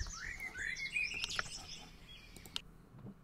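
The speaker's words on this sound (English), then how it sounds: "Banshee, I'm enjoying the bird noises" Game bird calls in Bear Simulator, a few quick chirps and sweeping whistled tweets at moderate level over a soft ambient background, fading after about two seconds.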